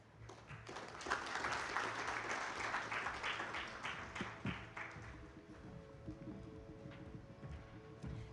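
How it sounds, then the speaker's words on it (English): Audience applause after a presentation at a supplier development forum, a fairly faint wash of clapping that swells early, then thins and tapers off toward the end. "Ladies and gentlemen, another round of applause for Mr. Byamukama."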